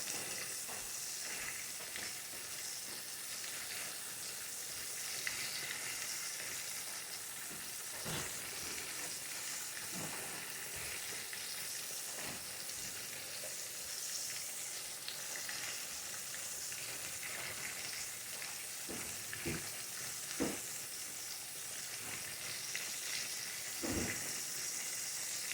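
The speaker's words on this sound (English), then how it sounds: "frying." Turkey chops fry in a pan with a steady, dense sizzle and hiss that runs throughout. Occasional sharp pops and clatter break through, and nobody speaks.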